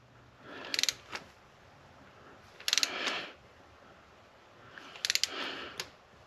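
A torque wrench tightens spark plugs on a Jeep Cherokee 3.2 engine at a small inch-pound setting, heard as three separate bursts of quick metallic ratchet clicks set apart by quiet pauses.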